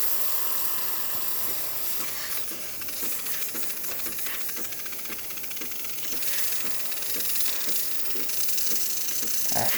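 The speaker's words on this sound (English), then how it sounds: "we can see the steam coming out of the steamer one" The steam wand of a Breville BES870XL Barista Express that won't build pressure hisses steadily and loudly for several seconds, with faint rhythmic pulsing underneath and no talking.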